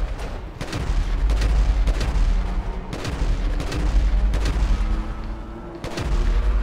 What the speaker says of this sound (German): Oh, das war ein schöner Headshot hier.